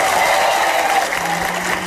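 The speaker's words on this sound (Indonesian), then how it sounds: "kasih tepuk tangan dong" Studio audience applause on an Indonesian TV talk show, a steady dense wash of clapping filling the whole stretch at an even level, with no voices standing out.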